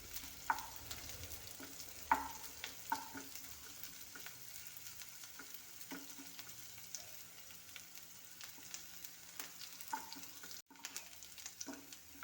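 Ginger, garlic, chili and onion frying together in a pan give a quiet, steady sizzle with scattered soft clicks of stirring throughout.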